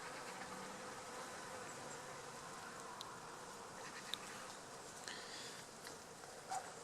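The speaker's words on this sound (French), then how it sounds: "Il y a beaucoup d'abeilles qui sont en train de butiner à l'intérieur." Bees forage among the blossoms of a flowering almond tree in a wild vegetable garden, their faint, steady buzzing humming along with a few soft ticks and no talk.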